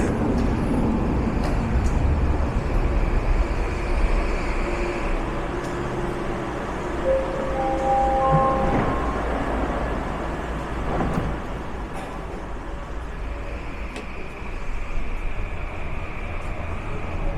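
A steady rumble of a Vancouver SkyTrain rolling into a station, with a rising mechanical whine and squeal partway through, loud and continuous with no talking.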